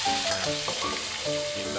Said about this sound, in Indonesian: kita masukkan saja bumbu yang sudah di blender halus tadi ya